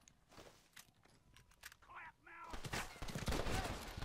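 Rifle and gunfire shots in the Red Dead Redemption video game, a few sharp cracks scattered through the first half, then a dense burst of loud shooting near the end, with a voice speaking over it.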